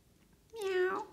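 A single close, clear cat meow rises and falls in just over half a second after a brief quiet moment.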